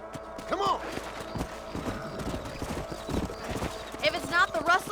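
Horse hooves clip-clopping on ground in the Western video game Red Dead Redemption, a steady rhythmic trot with an occasional whinny, moderately close, under speech and ambient game sound.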